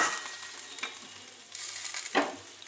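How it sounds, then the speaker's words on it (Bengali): Water goes into a hot pan of curry, raising a quiet, close sizzle that swells in two sudden bursts as it hits the pan, with faint stirring underneath. "জল দিয়ে দিচ্ছি"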